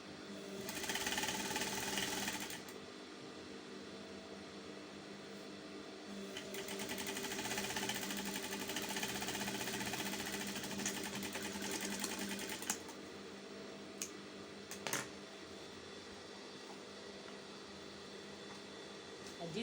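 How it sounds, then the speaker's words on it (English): A sewing machine stitches a halterneck dress seam in close, continuous whirring bursts, running steadily for long stretches with brief stops between. "I'll sew this side in"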